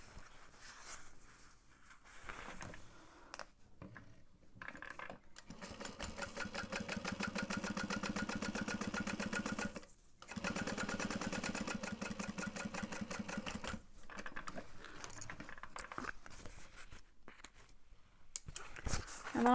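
A sewing machine stitches down a bag pocket in long steady runs of rapid mechanical chatter, stopping briefly between passes, close and fairly loud with no talk over it.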